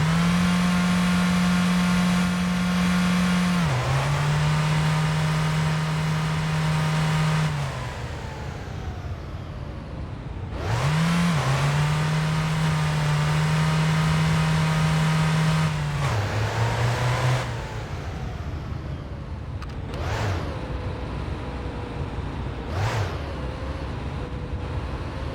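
A car engine in the game My Winter Car revs hard in neutral for a neutral drop, with repeated loud, sustained revs that rise and fall across the whole stretch, and no talking.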